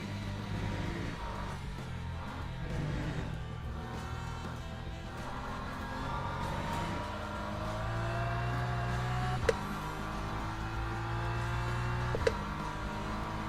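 Race car engine in the Le Mans Ultimate sim, held back by traction control: a steady, loud droning engine note that stays flat instead of climbing, running continuously with two brief clicks near the end.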